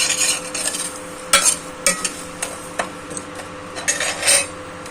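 Spices dry-roasting in a hot pan for mango chutney, a utensil scraping and clinking against the metal in irregular strokes, with a faint sizzle underneath and no voices.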